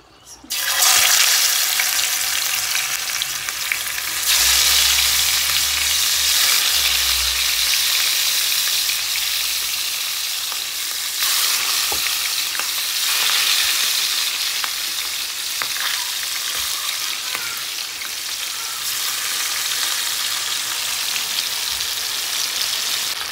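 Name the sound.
fish with turmeric and salt frying in oil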